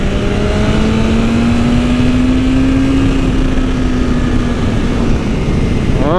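A 2020 BMW S1000RR M motorcycle engine drones loudly and steadily while riding on a freshly paved back-country road in Mexico, a sustained high-revving tone under heavy wind rush, with a brief rev change at the end.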